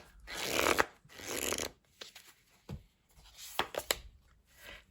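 Tarot cards being shuffled and drawn for a reading, with two long riffling bursts followed by several short, crisp card flicks and snaps, close and fairly quiet, with no talking.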